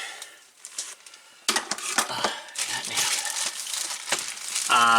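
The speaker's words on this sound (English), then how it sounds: "Let me go ahead and remove it from this plastic." Crisp plastic wrapping crinkles and crackles in bursts of handling noise, close up, as it is removed from a Commodore PC Multimedia Keyboard, continuing steadily for several seconds.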